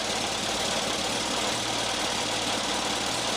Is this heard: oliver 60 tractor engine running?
yes